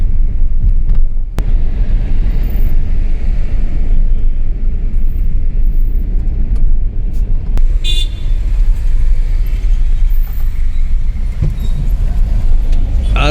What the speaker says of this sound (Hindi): अभी हम लोग को बहुत धीरे धीरे बम्पर टू बम्पर ट्रैफिक के साथ हम लोग आगे बढ़ रहे हैं।